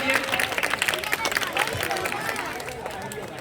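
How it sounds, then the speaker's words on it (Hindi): An audience claps in welcome for a dandiya dance team, a dense, lively burst of applause mixed with crowd chatter, loudest at the start and easing slightly toward the end. "एक बार जोरदार ताली से पूरी टीम का दोबारा स्वागत कीजिए।"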